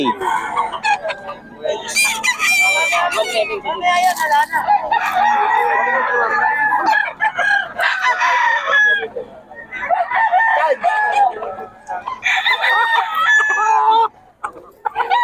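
Roosters in Bocaue crow loudly and close by, several long, wavering cock-a-doodle calls following one another with brief gaps, while people talk in the background.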